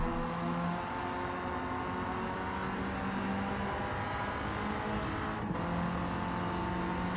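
A Kei car racing at speed in Gran Turismo 7, close behind a red Honda S660: a steady high engine drone climbing in pitch through each gear, with brief gaps at shifts.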